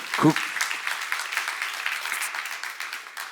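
Applause from a church congregation at a Korean sermon seminar, steady moderate clapping that sits under faint voices through the short stretch.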